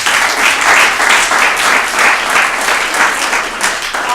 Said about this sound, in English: Let's give Shalia a round of applause.